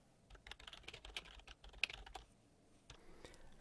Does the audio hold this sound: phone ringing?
no